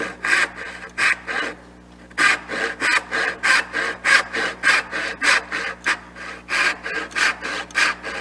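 A hand saw rasps through wood cutting dovetails in quick, even back-and-forth strokes, close and loud, with one brief pause early on.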